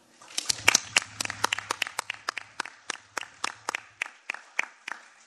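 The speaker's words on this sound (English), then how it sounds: "I don't think we had the chance to give them a round of applause, so if we could do that right now," Conference audience applauding panelists with a thin scatter of distinct, sharp hand claps at a fairly steady pace, sounding like a small group rather than a full hall, tapering off toward the end.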